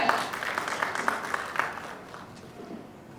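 An audience at a stage launch event claps to welcome Santhosh Varma up to the stage. Distinct rhythmic claps are lively at first, then thin out and fade toward the end.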